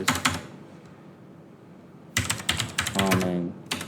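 Close, crisp keystrokes on a computer keyboard as Python code is typed, a short burst, a pause, then a faster run of clicks, with a voice talking briefly over it.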